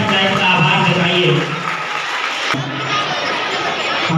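Crowd cheering and shouting with some clapping at an Independence Day celebration at a government senior secondary school, loud and continuous throughout, with children's voices mixed into the din.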